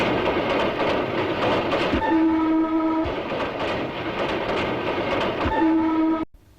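A passing train rumbles loudly and steadily with a rattling clatter, and two long horn blasts ring out over it before the sound cuts off abruptly.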